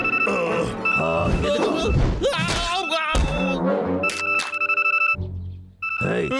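A mobile phone ringtone in a Telugu cartoon chimes in bright, repeating electronic tones, mixed with cartoon voices, thumps and music in a busy, loud scene.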